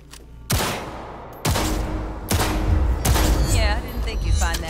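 Gunfire at target practice in the video game Cyberpunk 2077, heard as four loud, heavy blasts about a second apart with booming tails that run into one another, while a voice talks underneath.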